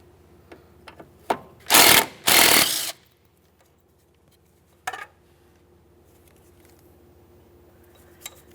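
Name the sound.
removing a 12mm mounting bolt on a Kia Forte strut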